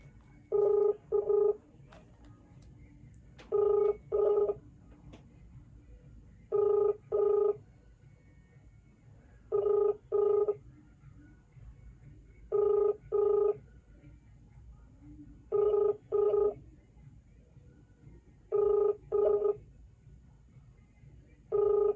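A phone call goes unanswered: evenly spaced double ring-back tones repeat about every three seconds, eight pairs in all, loud and clear over a quiet low hum with no voices.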